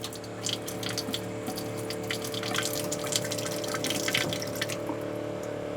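Water runs steadily into a sailboat's V-berth water tank during spring de-winterizing, a continuous close trickle and splash with small drips, alone without talk.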